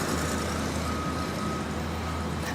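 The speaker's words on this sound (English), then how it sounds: "But Jillian, I'm still hearing those construction trucks going behind you." Construction trucks at work by a railroad underpass produce a steady, loud engine rumble and broadband noise throughout, with a faint tonal beep in the middle.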